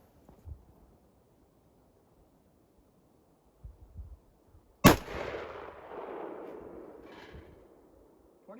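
A single loud, sharp shot from a .458 rifle firing a handloaded copper core bullet at a starting load, its crack followed by a long decaying rumble and echo, with quiet outdoor stillness and a few faint thumps beforehand.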